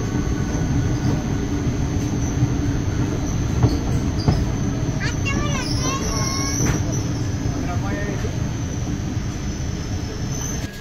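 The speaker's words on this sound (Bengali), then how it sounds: "ট্রেন এসে পৌঁছালো তার ফার্স্ট হল্ট খালদিপুর" The morning Malda–Howrah Intercity Express rolls into Khaldipur station with a steady rumble, wheel squeals and clatter close by, while people talk in the background.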